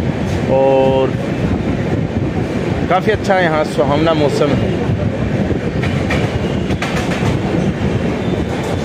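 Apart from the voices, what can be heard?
train passing through Bhayandar railway station, Mumbai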